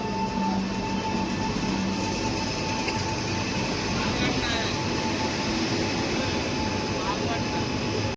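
Continuous rumble of a passenger train running on rails during a long winter journey, steady and loud throughout with a faint whine on top, while people talk underneath.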